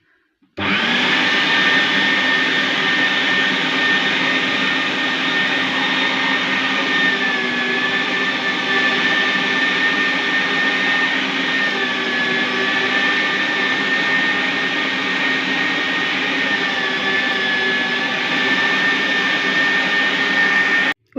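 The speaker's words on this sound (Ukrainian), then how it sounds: "Смажені овочі я перекинула в м'ясорубку і зараз буду перемелювати." A steady electric motor whirs loudly and continuously for about twenty seconds as a meat grinder grinds fried vegetables, with no talking over it.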